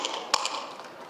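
A single sharp hand tap, a one-handed clap-like smack, rings out once, close and crisp, over a faint steady background hiss with no talking.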